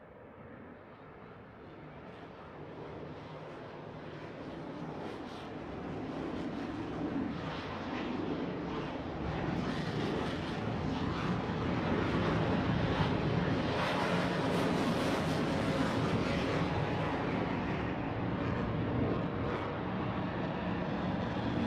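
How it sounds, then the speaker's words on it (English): Blue Angels jets 5 and 6 in a Roblox game air show approach the flight line at 400 miles per hour, their roar building from a faint rumble into a sustained loud wash of jet noise that lingers. "Blue Angels 5 and 6 are approaching the flight line at 400 miles per hour."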